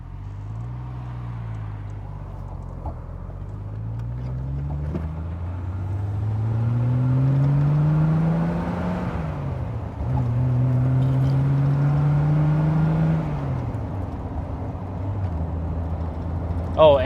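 A 1969 Triumph TR6 drives along with a smooth, low exhaust hum, the engine pitch rising and falling through gear changes and steady cruising, heard from inside the car.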